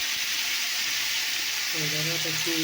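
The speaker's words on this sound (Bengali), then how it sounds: "লঙ্কা দিলাম তেলে" Green chili hitting hot oil gives a loud, steady broadband sizzle that runs the whole time, with a voice starting to talk near the end.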